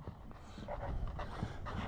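A dog whimpers and whines in short nasal bursts, fairly close, outdoors on a cold sleety morning.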